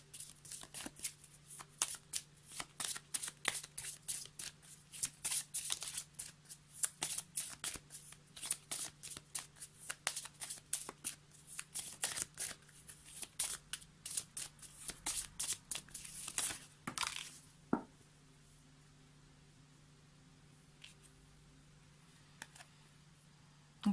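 Tarot cards being shuffled at close range, a long run of quick riffling bursts that stops abruptly, leaving near silence with a faint steady hum.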